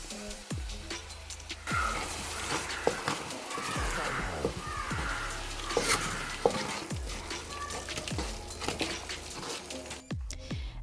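Onions, garlic and ají amarillo fry in oil in a pot with culantro sauce, giving a soft, steady sizzle broken by repeated wet stirring and scraping knocks, quiet and close.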